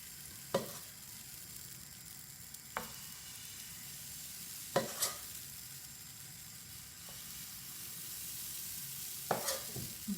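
Beetroot pancake batter cooking in a hot pan, a soft steady sizzle broken by several light taps and scrapes of a spoon or spatula against the pan.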